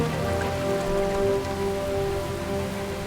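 Steady rain falls continuously, a dense even patter with a faint tonal hum underneath, no voices.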